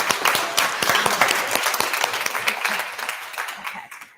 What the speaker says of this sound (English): So give yourself a round of applause just for that.